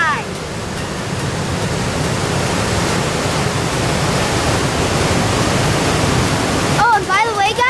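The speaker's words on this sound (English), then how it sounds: "We're at Lucia Falls, one of the 3 waterfalls we're gonna view today." Lucia Falls on the Lewis River pours in a constant, close, broadband rush of falling water that masks other sounds, and a voice briefly cuts in at the very end.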